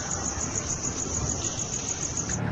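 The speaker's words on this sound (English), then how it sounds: "with the noise of the crickets, we remove the crickets" Crickets chirp at night in a dense, steady high-pitched pulsing trill that continues throughout, fairly close and constant, with a faint low rumble underneath.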